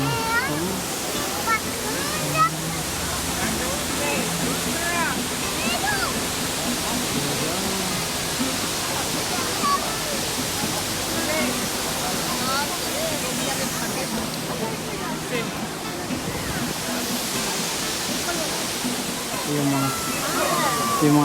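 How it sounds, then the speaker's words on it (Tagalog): Multnomah Falls, a waterfall in Oregon, roars as a steady broadband rush of falling water throughout, with people talking nearby over it. "This is the Multnomah Falls."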